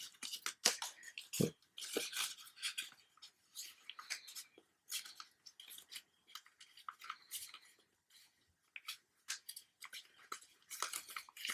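Paper folded by hand into an origami pickelhaube, a faint close series of crisp crinkles and creases arriving in irregular bursts with quiet gaps.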